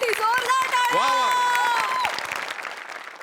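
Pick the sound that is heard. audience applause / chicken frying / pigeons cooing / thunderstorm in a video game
audience applause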